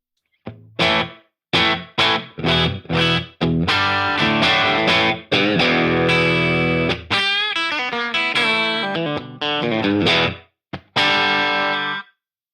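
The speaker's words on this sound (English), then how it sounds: "It's super handy with the stereo room because it just kind of fills in the spaces without having a bunch of reverb." Distorted electric guitar chords and notes ring out through a pedal's stereo room effect, wide and spacious, played in bursts with short gaps, loud and close.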